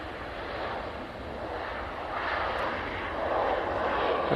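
A Lufthansa Airbus A321 in Star Alliance livery arrives at Manchester Airport from Munich, its steady engine roar filling the air and swelling slightly louder toward the end, heard alone without voices.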